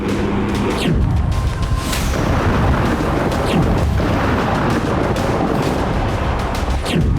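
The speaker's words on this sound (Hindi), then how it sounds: "आधी रात रोस्टोव के मोरोजोवस्क एयरबेस पर इसी तरह एक के बाद एक कई ड्रोन विस्फोट हुए।" A rapid series of heavy booms and blasts from drone strikes on Morozovsk airbase in Rostov at midnight, loud and rumbling, overlapping one after another with a continuous roar between them.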